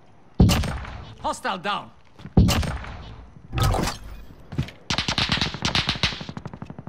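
Bursts of video game gunfire crack in sharp clusters alongside shouted speech, including a rapid rattling volley near the end.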